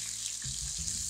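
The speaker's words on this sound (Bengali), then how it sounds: "ধুয়ে নিয়েছি, তাই পানিটা মানে ছিটতেছে, পানি ছিটতেছে" Washed raisins dropped into hot oil, water spattering and hissing briefly in a kitchen pan, a short close burst of crackling sizzle.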